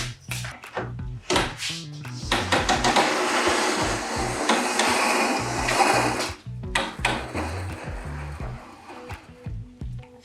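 A Kreg SEG track saw cuts through plywood with a loud, sustained whirring buzz, spooling up at the start and winding down in choppy bursts near the end.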